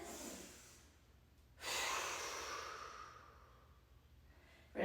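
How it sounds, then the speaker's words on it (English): A yoga class participant draws a deep breath, one long audible inhale swelling then slowly fading, close and soft, followed by another breath sound starting at the end. "Deep breath"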